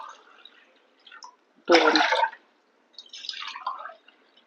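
Glasses of water poured into a pot to start sugar syrup for gulab jamun, heard as a loud, splashy half-second gush of liquid between quieter stretches, followed by a softer trickling pour.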